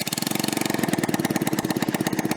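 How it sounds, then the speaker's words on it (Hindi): A motorcycle engine running without a silencer fires in a rapid, even chain of harsh, loud popping pulses, close up and steady, with no voices. "इसके महत्व को समझने के लिए चलिए एक बार बिना साइलेंसर के मोटरसाइकिल को चला के देखते हैं"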